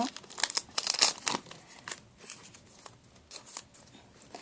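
A plastic bag holding a craft kit crinkles and rustles as it is opened by hand close up, busy bursts of crackling that thin out into softer handling.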